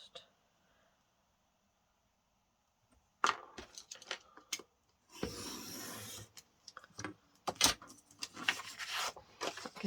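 Paper being cut with scissors or a trimmer for a handmade recipe keeper journal, heard as short close rasps and crisp snips in irregular bursts after a quiet opening.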